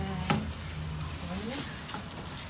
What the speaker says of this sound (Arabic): هنحط البصل ماشي، نسيبهم يتشوحوا مع بعض